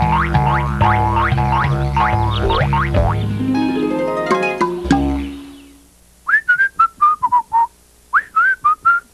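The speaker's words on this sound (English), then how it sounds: "sometimes when I start whistling, I love it so much that I just keep right on whistling." Bright, loud whistling in a Nick Jr. commercial: a bouncy tune with boing-like sliding notes over music, then a pause and a run of short, separate whistled chirps heard alone.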